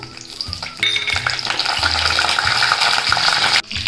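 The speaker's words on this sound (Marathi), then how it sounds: "फोडणीसाठी तेल ठेवले कढईत जिरं मोहरी घालून घेते लसूण फोडणीला" Garlic, cumin and mustard seeds crackle in hot oil in a kadhai: a quiet start, then a sudden loud burst of sizzling that stays dense and busy before briefly dropping near the end.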